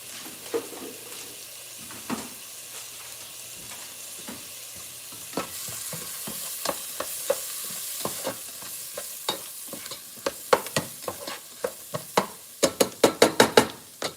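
Minced garlic sizzles in a pan with a steady frying hiss while a utensil scrapes and stirs, the clicks and taps growing busier and sharper toward the end.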